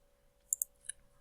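A computer mouse clicks three times in a quiet room, a sharp quick double click followed a moment later by a single softer click.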